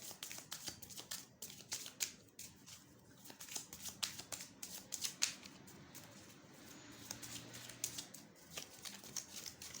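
Playing cards shuffled and handled in a quiet room, a steady run of soft crisp riffles and flicks throughout, fairly faint with no talk over it.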